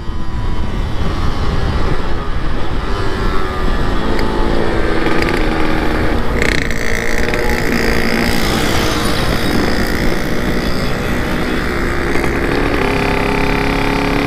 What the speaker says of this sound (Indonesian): Gila motor apa kok keluar api semua